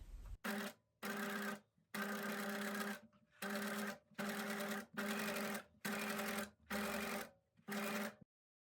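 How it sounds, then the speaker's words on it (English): A sewing machine runs a straight stitch through fabric in eight even bursts of whirring motor and needle clatter, each separated by short pauses, close and clear with no talk. "now I'm ready to sew the spiral on the machine. So you're just going to do straight stitch."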